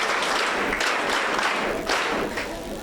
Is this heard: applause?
yes